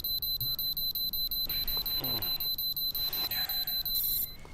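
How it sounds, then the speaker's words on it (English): An alarm clock rings in the video game Metro Exodus, a loud, rapid, repeating electronic beep pattern that pulses steadily throughout, with faint background game sounds underneath. "Alarm! Alarm! Wakey, wakey!"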